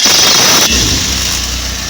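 A car engine catches after the starter cranks and settles into a steady running idle, loud and close, with no voices.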